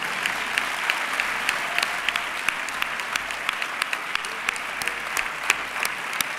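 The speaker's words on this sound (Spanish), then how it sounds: "un fuerte aplauso también para el hermano" An audience at a sports awards gala in San Sebastián de los Reyes claps in a sustained, moderately loud round, with sharper individual claps popping out of the steady roar.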